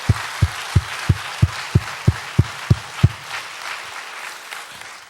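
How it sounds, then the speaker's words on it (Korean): A church congregation claps in a steady, synchronized rhythm, about ten sharp, evenly spaced beats, then trails off into softer, scattered clapping with no talk. "박수로 감사할까요?"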